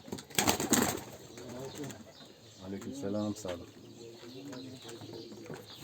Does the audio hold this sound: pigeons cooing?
yes